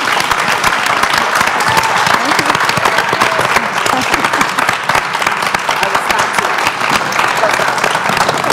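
Sustained, dense applause from a large audience in a ballroom at a youth leadership forum, steady and loud throughout with a crowd murmur underneath and no pause.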